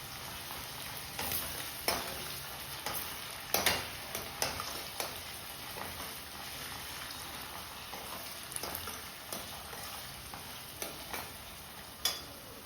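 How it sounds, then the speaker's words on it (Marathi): Onions fry in oil for a Konkani-style fresh cashew curry, a quiet steady sizzle with a spatula tapping and scraping the pan at irregular intervals, close but faint. "चांगले शेकवायचे तेलामध्ये कांदा"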